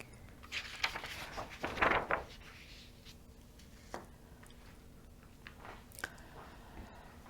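A kneaded eraser rubbed and pressed against white paper to clean it, giving soft squishy, rubbery kneading and scrubbing sounds in short bursts, strongest early on, then faint scattered dabs in a quiet room.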